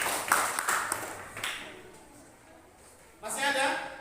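Classroom students clap their hands in short bursts, with a teacher's voice talking in between and a louder round of clapping returning at the end.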